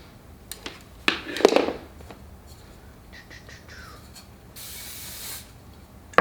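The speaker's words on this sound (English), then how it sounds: "And then I like to spray it while it's hot" Short bursts of hairspray misting onto freshly curled, still-hot beachy waves, one longer steady hiss standing out among brief sprays and rustling handling noises.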